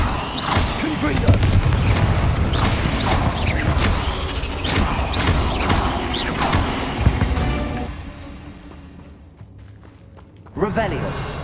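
Confringo fire spell blasts in the video game Hogwarts Legacy, a dense run of booming explosive bursts and whooshes over game music and voices, loud and near, fading before one last burst.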